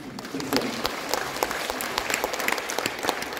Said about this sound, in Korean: 근데 부천시 공무원도 우리나라에서 가장 벤치마킹 도시답게 박수를 많이 치는군요.